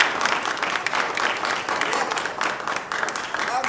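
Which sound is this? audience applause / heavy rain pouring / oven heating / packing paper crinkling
audience applause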